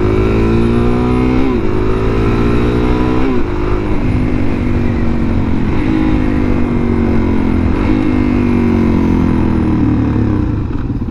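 A BMW S1000RR sportbike ridden at Daytona Bike Week, its engine droning loud and close throughout, with pitch climbing and dropping in repeated surges as it revs through the gears.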